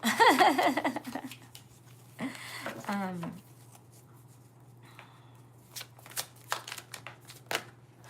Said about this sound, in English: I will pull some cards for you